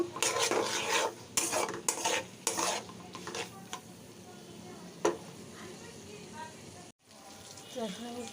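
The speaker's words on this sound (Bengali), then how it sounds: "একটু হলুদ একটু লবণ তেল দিয়ে ভেজে নিচ্ছি" Tripe fries in oil with turmeric and salt while a utensil scrapes and stirs in a pan in loud, irregular strokes over a soft, steady sizzle. A voice is heard briefly near the end.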